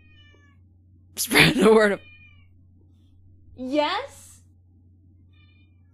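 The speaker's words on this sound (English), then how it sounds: "there's my cat. She's meowing at me." A cat meows twice, close and clear, each call rising and falling, with a person speaking briefly over the first meow in a quiet room.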